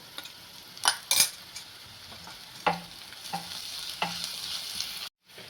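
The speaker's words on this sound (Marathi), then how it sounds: "आपल्याला हा सगळा ठेचा याच्यामध्ये घालायचा आहे आणि ठेचा चांगला परतून घ्यायचा आहे" Onion and green chili thecha sautéed in a pan for Mumbai-style pav bhaji, with a steady soft sizzle broken by several sharp spatula scrapes and clinks against the pan, close and alone, ending in a brief cutoff.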